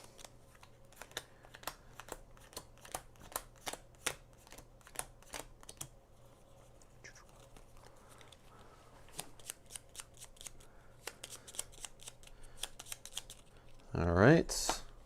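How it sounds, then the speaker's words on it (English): Cards from a deck are shuffled in a riffle near the end, a brief rustling burst following a run of sharp clicks and taps from pieces during solo play of the board game Paladins of the West Kingdom. "it will also shuffle his deck"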